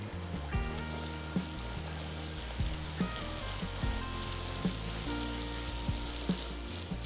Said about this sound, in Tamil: எண்ணெய் நல்ல சூடாக இருக்கும்போது திரட்டி வச்ச பட்டூராவை மெதுவாக எண்ணெயில் போடுங்க